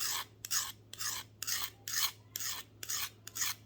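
Hand file rasping along a pruning shears blade to sharpen it, seven close, even strokes in a regular back-and-forth rhythm, each a bright gritty scrape, with a faint low hum underneath.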